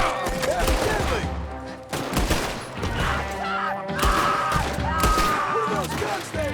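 Heavy gunfire from the game Red Dead Redemption 2, with dense bursts of loud, booming shots rolling over each other in a sustained firefight, close and intense, with voices faintly mixed in.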